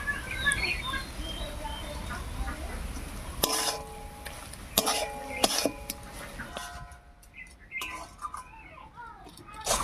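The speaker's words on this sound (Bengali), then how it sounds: "ধনে পাতা কুচি আর চিনি দিয়ে নাড়িয়ে নিয়েছি" Mashed eggplant with sugar and chopped coriander is stirred in a pan, with soft scraping and clinking of a spoon over a gentle sizzle, close by and moderately loud.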